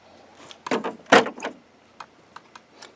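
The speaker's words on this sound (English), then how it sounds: "You can open that door," The front door of an HP Officejet 7610 wide-format printer opens with a few plastic clicks and a sharp clack, followed by fainter ticks, close and quiet.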